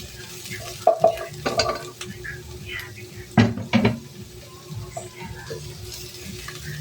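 Ginger drops into very hot cooking oil and fries with a sizzle, while a spoon scrapes and stirs the pan in a few sharp bursts. The sound is fairly close and moderate in volume.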